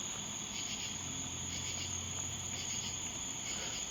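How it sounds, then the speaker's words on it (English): Tree crickets trill continuously at a steady high pitch, a dense insect chorus with no voices. "I think I just heard another tree cricket species."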